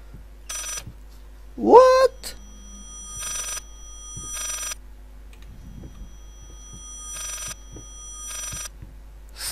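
In the horror video game Layers of Fear, a telephone rings in repeated bursts of bright, rattling bell tone with short gaps between them. A sharp rising cry cuts in early, and low footsteps and creaks sit under the ringing. No one speaks.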